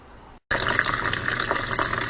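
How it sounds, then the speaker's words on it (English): Water pours steadily from Dutch buckets into a PVC return line in an aquaponics system, a close, continuous splashing gush that starts abruptly after a brief silence. "We can see the Dutch buckets pouring water into"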